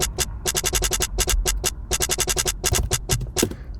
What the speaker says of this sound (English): So the hi-hat loop sounds like this now.